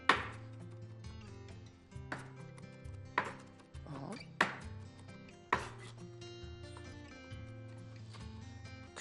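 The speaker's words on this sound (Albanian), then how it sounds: "Kështu e shtyp hudhrën albana për të nxjerrë dhe për të shpërthyer alicina prej saj." Garlic cloves crushed by hand for a meat clay-pot dish, heard as a series of sharp, close thumping strikes at irregular intervals over steady background music.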